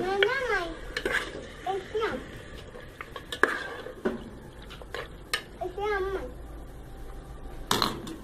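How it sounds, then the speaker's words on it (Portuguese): Beef is stirred and sautéed in a pressure cooker pot, with scattered scraping clinks of a utensil against metal, a faint sizzle beneath, and a voice talking intermittently over the top. "Aí aqui você mexe pra refogar um pouco"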